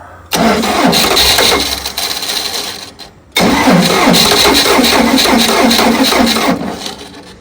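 A cold Dodge 360 V8 engine cranks and catches, then runs roughly on a dead cylinder with an uneven, stumbling beat, cuts out briefly and restarts, loud and close.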